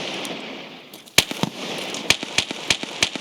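Gunfire from computer-controlled fighters in the Escape from Tarkov video game, heard as a string of sharp, cracking shots at irregular intervals that sound somewhat distant, over a steady background hiss.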